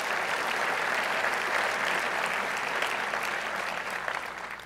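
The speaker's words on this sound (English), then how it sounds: "Let's give another round of applause for that." An audience applauds at the 2016 Louis I. Kahn Award event honoring architect Bjarke Ingels, a loud, dense, sustained round of clapping from a crowd that tapers slightly toward the end.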